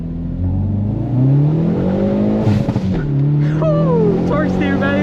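Hard acceleration in a 2020 Hyundai Veloster N with a manual gearbox: engine pitch climbs, drops at a gear change, then climbs again, loud from inside the cabin, with a brief voice over it.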